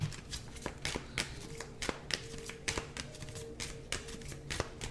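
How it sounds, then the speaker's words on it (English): A deck of oracle cards is shuffled by hand, a quick series of crisp riffling flutters and soft taps repeating in an uneven rhythm, close and fairly quiet with no voice over it. "we're going to grab 3 cards from this deck here"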